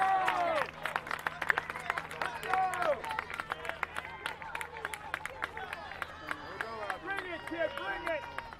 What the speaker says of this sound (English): Here comes the Harwich crowd